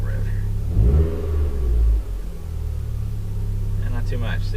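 A 2012 Mitsubishi Lancer with a CNT axle-back exhaust gets a short rev from idle, a low rumbling rise around the one-second mark that drops back to a steady, fairly subdued idle.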